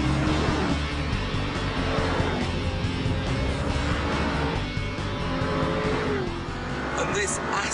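Aston Martin V8 Vantage lapping a racetrack, its engine note droning steadily and loud throughout with a brief tire squeal, someone talking over it the whole time.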